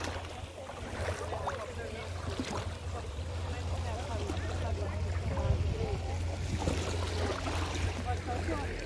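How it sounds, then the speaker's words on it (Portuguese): A small boat drifts with its engine switched off, rocked by a strong current on open water. Steady lapping and low rumble run throughout, with faint voices and wind in the background. "o barquinho vai com o motor desligado, ó. Só vai com o balanço da água."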